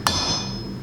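A single sharp hammer blow on metal while forging a Thor's hammer necklace pendant, followed by a ringing tone and steady background noise, heard close and alone.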